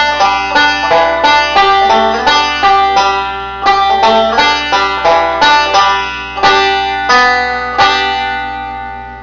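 A banjo plays a complete phrase with slides, bright plucked notes in quick rolling picking patterns, steady and close, each attack decaying in a twangy ring, with no voices.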